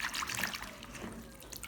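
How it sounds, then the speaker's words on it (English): Bean sprouts being swished and washed by hand in a bowl of salted water, a soft continuous trickle and splashing close by with no talking. "Place them in a bowl of water. Add some salt and wash to remove dirt and impurities."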